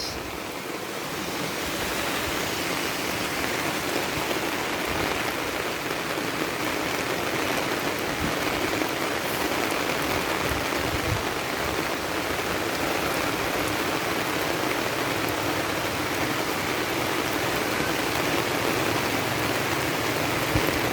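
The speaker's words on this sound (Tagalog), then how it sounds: "talagang buhos yung ulan" Heavy rain pours steadily onto an umbrella, a dense, unbroken hiss of drops drumming close overhead for the whole stretch with no letup.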